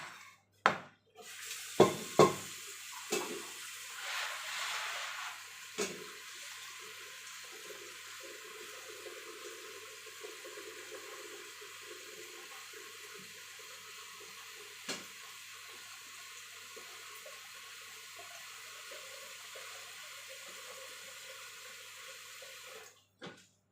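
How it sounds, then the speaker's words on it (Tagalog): Water runs steadily into a pressure cooker in a home kitchen for about twenty seconds, with a few sharp knocks and clanks near the start and a softer hiss continuing until it stops abruptly. "Lagyan natin ng tubig ang ating pressure cooker."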